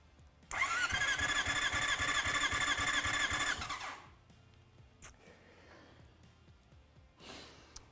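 A car engine cranks over on the starter during a compression test, a loud, steady rhythmic churning for about three and a half seconds before stopping, followed by faint clicks and handling noises.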